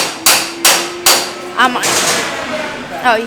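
Several loud pneumatic impact-wrench bursts, spaced evenly, followed by whirring rattles of air tools fastening wheel nuts back onto a race car at Donington Park, close and sharp.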